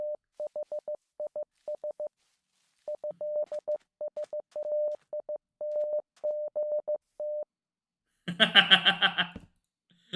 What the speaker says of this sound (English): This one's Morse code.